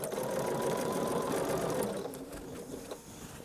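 A sewing machine runs steadily while stitching a quilt with straight-line quilting, its fast motor hum and needle chatter close and continuous before slowing and easing off near the end.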